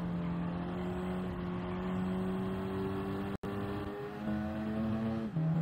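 Race car in Gran Turismo 7 at Kyoto Park during a one-hour endurance race, engine droning steadily with harmonic pitch dropping as it downshifts, a brief cut near the middle, then revving back up, loud and continuous with no talk.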